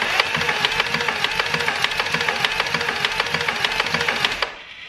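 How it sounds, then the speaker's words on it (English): A VW Golf R Mk7 engine cranks on the starter during a compression test: a steady, fast mechanical chatter that runs for over four seconds at close range, then cuts off abruptly. "I'm now going to do a compression test"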